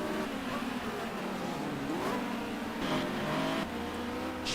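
Toyota Corolla touring race cars accelerating hard at Varano circuit in Italy, a continuous loud engine roar with rising and shifting revs as several cars pass close by, sustained throughout.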